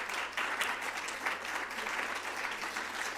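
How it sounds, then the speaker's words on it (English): Steady, dense applause from a town hall audience on youth mental health, a continuous clapping wash filling the whole stretch with no voices over it. "Let's give them a big round"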